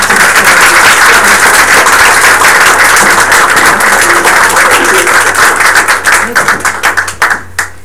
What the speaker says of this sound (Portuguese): les voy a pedir que le demos otro gran aplauso a Sandra